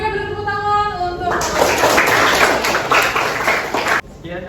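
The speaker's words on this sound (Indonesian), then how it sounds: "beri tepuk tangan untuk" In a classroom, a short bit of speech gives way to a loud burst of group applause for a presenting group. The clapping is dense and sustained for under three seconds, then cuts off abruptly.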